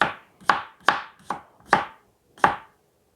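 A knife chops potatoes into chunks on a board, six sharp, close thuds coming at a fairly even pace, each ending quickly, and then silence.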